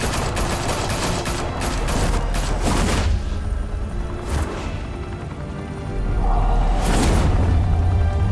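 Gunfire in Batman: The Telltale Series, a dense loud barrage of rapid shots and booms rolling on continuously, with a few whooshing hits and crashes rising above the din.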